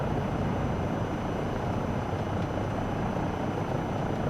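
A helicopter engine and rotor drone steadily and loudly in Microsoft Flight Simulator 2024, a continuous dense roar with no pauses and no talk.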